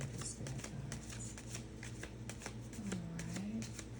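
Tarot cards being shuffled by hand, a quick run of crisp riffling flutters and soft slaps repeating close up at low volume, with a faint low hum beneath and no clear speech.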